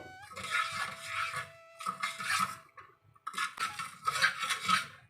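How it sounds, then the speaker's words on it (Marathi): A spoon stirs panchamrut in a bowl, making close scraping and rubbing strokes in three separate bursts with short pauses between them. "आता आपल्याला हे मिक्स करून घ्यायचं आहे"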